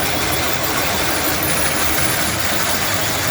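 A Meccano differential analyser runs with its torque amplifier driving the screw drive of an integrator, producing a loud, continuous whirring and grinding mechanical drone close by, with no break.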